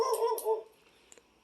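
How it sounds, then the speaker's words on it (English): Dogs bark in a short burst at a house, close and loud, then fall quiet with faint yips trailing off. "barking dogs."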